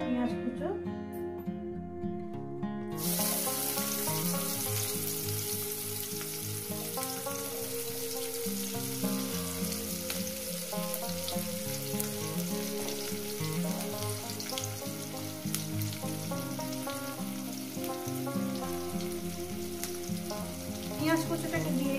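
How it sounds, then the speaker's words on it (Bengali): Chopped onion hits hot oil for a spicy Bengali egg curry, and a steady, dense sizzle of frying then runs on without a break, loud and close, with faint stirring scrapes mixed in. "ওই তেলের মধ্যে দিয়ে দেবো পেঁয়াজ কুচো"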